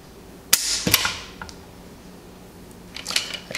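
A Smith & Wesson Model 629 Classic revolver trigger is pulled against a cheap trigger pull scale, giving two sharp metallic clicks in quick succession, close and crisp, followed by fainter handling clicks and rattles in a quiet room.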